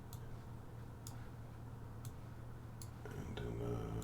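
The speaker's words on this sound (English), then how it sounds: "It's a bunch of clicking." Steady, evenly spaced clicking ticks, about one per second, over a constant low hum, with a brief burst of faster clicks near the end.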